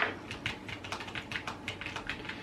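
Quick, steady typing on a Logitech G915 wireless mechanical keyboard with linear switches, close and fairly soft, keystrokes clustering in rapid clicky runs with no talk.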